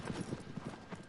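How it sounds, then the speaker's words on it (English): Horse hooves clip-clop at a steady riding gait in Shadow of the Colossus, a regular run of soft thuds repeating through the moment, close and moderately loud, with faint game ambience behind. "Now I'm riding my horse"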